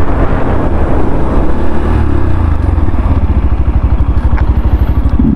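A 2024 Yamaha FZS V4 motorcycle runs loud and close as it brakes, its engine note settling from a steady drone into a low, rapid idle-like putter.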